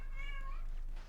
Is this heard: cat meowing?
yes